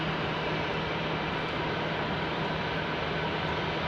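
An American Airlines Airbus A319 jet airliner readying for takeoff bound for Phoenix at Salt Lake City airport, a steady broadband engine roar with a low hum, constant in level throughout with no talk.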